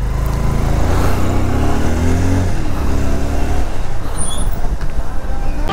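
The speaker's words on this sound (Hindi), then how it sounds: "देखते हैं बाइक की कितनी आवाज़ आ रही है" Motorcycle engine running loud and steady while pulling out of an office parking lot into traffic, with a low rumble that shifts as the throttle changes midway and faint higher noises later.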